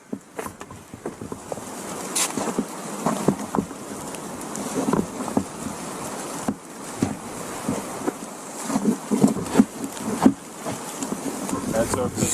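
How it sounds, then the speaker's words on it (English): Gusty northwest wind buffets a snowy winter camp in the Catskills, rising and falling in rough, irregular bursts close to the microphone. "There's a little bit of a wind coming out of the northwest, as to be expected"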